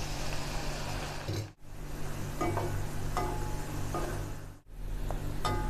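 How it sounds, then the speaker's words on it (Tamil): Garlic fries in hot oil in a kadai, a steady close sizzle with faint stirring scrapes, broken twice by brief pauses in the sound; no talking. "இப்போ நம்ம அதே வடைச்சட்டியில் பூண்டு போட்டு நல்லா ஃப்ரை பண்ணலாம்."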